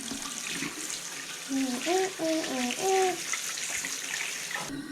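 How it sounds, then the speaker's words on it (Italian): A tap runs steadily for handwashing, a constant close hiss of water, while someone hums or sings a short tune over it. "Acqua."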